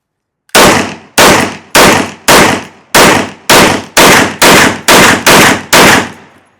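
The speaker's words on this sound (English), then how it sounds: "I am going to try to shoot just a little bit faster to see if I can stay on target while I'm shooting this gun" Ten rapid, evenly spaced shots from a 460 Rowland pistol, loud and close, each blast sharp with a short decaying tail, fired in a quick steady string without voices.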